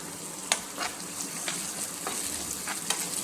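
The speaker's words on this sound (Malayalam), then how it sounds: "ക്യാരറ്റും തേങ്ങയും നന്നായിട്ട് വെന്ത് വഴണ്ട് വന്നു" Carrot and coconut sauté in a pan with a pinch of salt, a soft steady sizzle broken by light, evenly spaced taps and scrapes of a spoon stirring, quiet and close.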